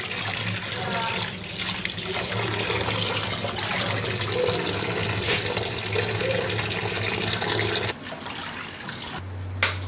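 Water pours steadily from a kitchen tap while meat is rinsed for preserving, a continuous close splashing and trickling that stops abruptly near the end, leaving a low hum.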